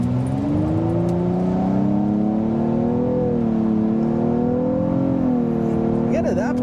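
A 2023 Nissan Maxima SR accelerates up to 60 mph, its engine note rising in steady harmonic bands heard from inside the cabin, loud and continuous without any talking.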